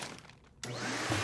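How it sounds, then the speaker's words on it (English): A vacuum cleaner switches on abruptly after a quiet moment and sucks air out of a storage bag, a loud, steady whooshing drone close by that swells slightly as it continues. "The vacuum is sucking all the air out of the bag"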